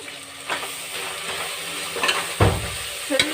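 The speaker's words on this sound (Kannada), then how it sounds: "ಚೆನ್ನಾಗಿ ಫ್ರೈ ಮಾಡ್ಕೊಳ್ಳಿ. ಹಸಿ ವಾಸನೆ ಎಲ್ಲ ಹೋಗಬೇಕು." Tomato with coriander and mint leaves sizzles and fries in a pan for a biryani, with a steady hiss broken by a few stirring clicks and scrapes close by.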